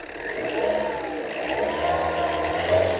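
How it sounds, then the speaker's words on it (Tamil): A single-owner Tata Indica in good condition runs close by, its engine held at a raised, steady rev with small surges and one brief swell near the end, with no talk over it. "இன்ஜினை ரேஸ் பண்ணி காமிப்பாங்க"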